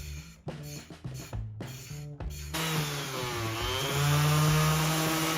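A power sander works an old mid-century furniture finish, starting and stopping in short whirring bursts before settling into a loud, continuous whine with rubbing grit underneath.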